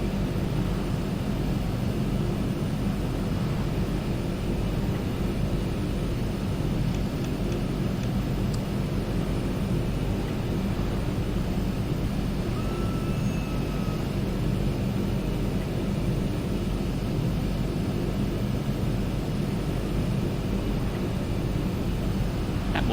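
A steady, droning turboprop hum fills the cabin as an Aerosoft Twin Otter taxis after landing in Microsoft Flight Simulator 2020, constant and loud throughout with no speech.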